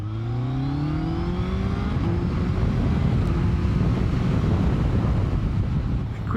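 A BMW K1300R motorcycle rides with its engine note rising and sweeping through quick-shifter gear changes, heavy wind rush over the microphone throughout, loud and continuous.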